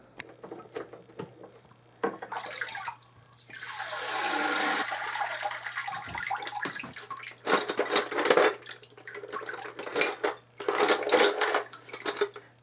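Brass Olds Herald trumpet lifted out of a chemical cleaning bath, with loud splashing, sloshing and pouring water plus metallic clinks of tubing, in several bursts close by.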